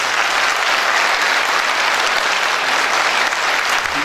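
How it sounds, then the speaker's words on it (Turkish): Dense, loud applause from an audience at a candidate introduction evening, a steady wash of many hands clapping throughout with no voices over it. "bir alkış rica ediyorum"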